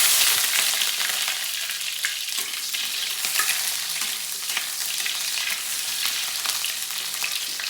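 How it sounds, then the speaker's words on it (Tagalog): Onions sauté in hot oil in a pan, giving a loud, continuous close-up sizzle and crackle with no voices. "gita, gisa natin yung sibuyas."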